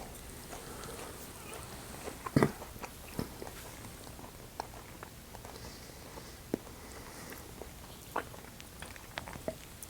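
Dried cranberry chewed after a whiskey tasting: soft, close mouth sounds with a few sharper bites and crunches scattered over quiet room noise.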